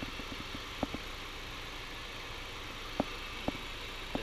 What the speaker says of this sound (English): It's a very quiet engine. It's a 2014 Jeep Compass Latitude.